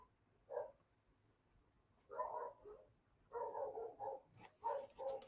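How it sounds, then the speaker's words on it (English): Dogs outside bark at a neighbor's dog in several short bursts and clusters of yaps, somewhat distant and faint over a quiet background, with gaps between the volleys. "you hear the dumb dogs outside barking at the neighbor's dog"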